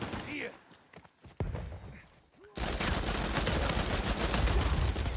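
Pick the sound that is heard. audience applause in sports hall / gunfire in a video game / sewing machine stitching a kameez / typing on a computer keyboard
gunfire in a video game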